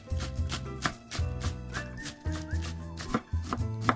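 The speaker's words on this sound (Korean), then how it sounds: "먼저 봄동 채 썰어주고" A knife julienning spring cabbage (bomdong) on a cutting board, close, crisp rhythmic chopping in quick bursts of several strokes separated by short pauses.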